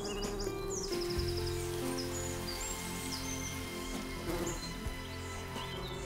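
A foraging honeybee scout buzzing close by among flowers, a steady droning hum with shifting pitch as it moves, set against faint outdoor birdsong.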